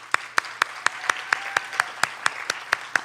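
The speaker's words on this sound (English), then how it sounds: "I'd love to give a round of applause to Maya." An audience at a Poetry Out Loud event claps in an even, rhythmic stream of sharp claps, steady and fairly loud.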